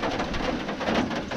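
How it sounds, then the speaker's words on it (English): Heavy rain pours steadily outdoors around a 1977 Ford F600 tow truck with a 390 big block engine, a dense, loud, continuous wash with no pauses. "It is raining. I don't know if you can see it on camera, but you definitely hear it."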